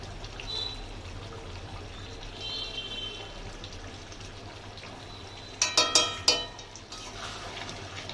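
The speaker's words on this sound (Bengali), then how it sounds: "দিয়ে দেবো 1 চামচ ঘি।" A spoon of ghee goes into a potato and pointed gourd curry with cashew milk, heard as a quick burst of close spoon clinks against the pot over a faint steady background.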